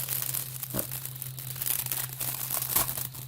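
A Yu-Gi-Oh booster pack being torn open by hand, steady close crinkling and tearing of the foil wrapper over a faint constant hum, with a few sharper rips.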